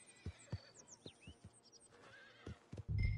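A horse in the video game Red Dead Redemption 2 whinnies and snorts several times in short bursts, with hoof clops in between, ending in a loud rush of noise.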